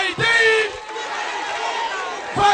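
A crowd cheers and applauds loudly for the singer on her arrival in Côte d'Ivoire, a steady roar of voices and clapping with a few shouts and whoops rising above it.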